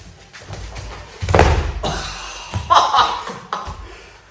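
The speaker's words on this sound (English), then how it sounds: "He's going to absolutely bang me with his favorite throw" Judo practice where a partner executes a throw, with heavy thuds of a body slamming onto the mat amid shuffling, rustling movement and a brief chuckle, close and moderately loud.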